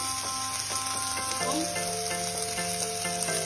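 Crushed dried chillies, grated ginger, garlic and onion sautéing in hot oil give a continuous close sizzle, with regular light scrapes of a spoon stirring through the pan.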